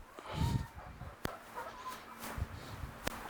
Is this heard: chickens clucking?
yes